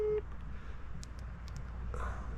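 A few short electronic beeps in quick succession, faint and thin over a low background hum, like telephone keypad tones.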